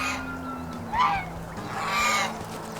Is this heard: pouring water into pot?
no